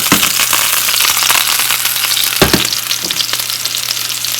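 Sea bass sizzles loudly in hot oil in a pan, a constant crackling fry with a few sharper pops.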